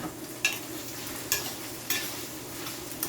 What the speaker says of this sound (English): it is frying up real good